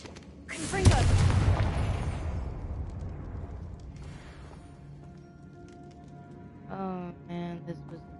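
Confringo blasting spell explosions in the video game Hogwarts Legacy: one big booming blast that rolls away into a long rumbling decay, followed by fainter game effects and a brief chime near the end.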